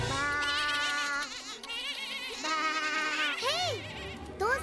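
Animated cartoon sheep bleat repeatedly, several wavering high cries overlapping in a loud chorus, with a brief lull in the middle before more bleats rise again.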